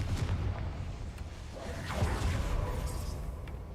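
A Confringo spell explodes in Hogwarts Legacy: a muffled, low rumbling boom with a whooshing, mechanical tail, fairly faint and sustained for a few seconds.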